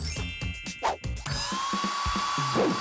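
A hair dryer starts partway through and blows with a steady whirring rush and a thin whine, continuing to the end over lively background music.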